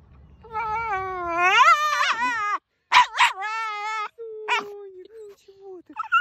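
A dog lets out drawn-out, whining, tonal yelps and barks close by, several rising and falling cries separated by short gaps, with a harsher yip near the end.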